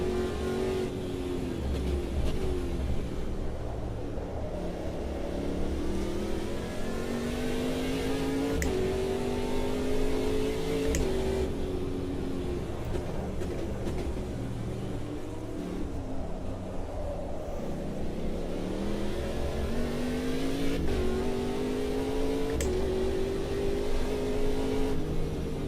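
A race car engine in Automobilista 2 drones steadily, its pitch climbing through the gears and dropping on shifts, sounding close and constant across the lap with no talking.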